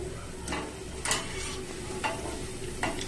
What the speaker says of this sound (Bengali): এইভাবে আমি আমের বড়াগুলো সব ভেজে নেব।